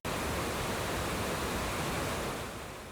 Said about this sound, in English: What you're hearing is pink noise that was EQ'd to create the various profiles.